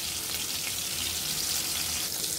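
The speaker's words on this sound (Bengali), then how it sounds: "আমরা চিকেনগুলো এভাবে কিছুক্ষণ ভেজে নিব।" Marinated chicken frying in a pan gives off a steady, even sizzle with a soft hiss. It holds at a constant level all the way through, with no voices.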